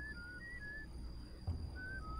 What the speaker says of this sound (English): Whistle, short whistle, fart, go.